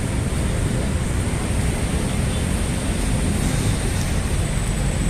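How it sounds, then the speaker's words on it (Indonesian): Heavy rain pouring steadily and loudly outdoors in Jakarta, a dense continuous roar with no voices. "Oh, udah mulai kencang pula ini hujannya."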